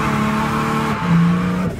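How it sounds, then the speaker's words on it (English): A drift car's engine revs hard at the track while the e-brake is held, a loud, close, sustained drone that dips and climbs again before easing off. "It's putting in the e-brake and putting your foot on the gas."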